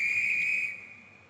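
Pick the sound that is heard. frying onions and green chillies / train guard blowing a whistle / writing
train guard blowing a whistle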